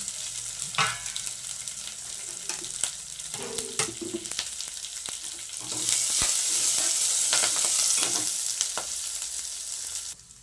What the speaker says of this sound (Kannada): ಫ್ರೈ ಆಗಲಿ ಮಸಾಲ ಹಾಕೊಳ್ಳೋಣ